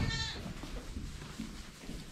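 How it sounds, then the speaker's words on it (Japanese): A female goat with her kid at a farm goat pasture in Itoshima, Fukuoka, gives a short nasal bleat at the start, followed by low rumbling background noise. "あれ、メスヤギがいるな。 うん、メスヤギと子供だね。"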